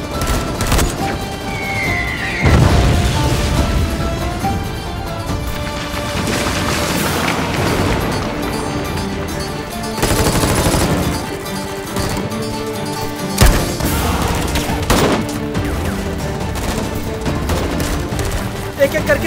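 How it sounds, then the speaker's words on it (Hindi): A dramatized battle scene fills with dense bursts of gunfire and deep booming explosions, loud and continuous, with voices and a score heard beneath the shooting. "तुम फायरिंग करते रहो, रुकना मत"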